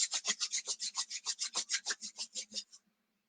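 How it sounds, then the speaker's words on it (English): Palms rubbed briskly together, about sixteen quick even strokes in a steady back-and-forth rhythm, close and clear, then stopping abruptly into silence. "And rub your palms together."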